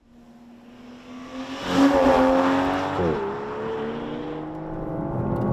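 A 2020 Aston Martin DBS Superleggera's V12 engine idles with a smooth, low hum, then revs up sharply into a loud, rising roar, drops back, and climbs again to a sustained high growl, heard close by.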